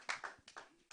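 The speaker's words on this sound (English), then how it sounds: "You are too fast to clap." Audience clapping in a hall, several short bursts of hand claps with brief gaps, fairly close and moderately loud.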